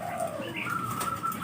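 A perkutut zebra dove gives a brief cooing phrase in a moment of soft, fairly faint birdsong against a hissy background.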